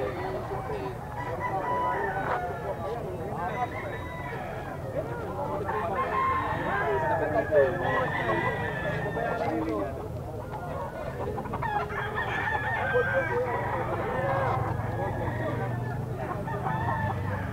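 Roosters at a Philippine pet market, including a straight-comb golden cock, crow and cluck repeatedly amid a busy, crowded background with some voices talking nearby.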